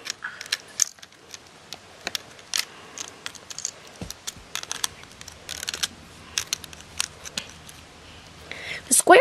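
Small plastic Rainbow Loom pins are pulled out and rearranged on the loom, giving scattered close clicks and rattles with brief pauses and a sharper clatter near the end.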